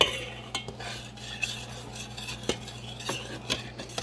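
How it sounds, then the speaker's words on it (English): Sugar stirred into forsythia cough syrup: soft, faint swirling with occasional light spoon taps against the pot over a low steady hum. "going to add the sugar and make sure to keep mixing"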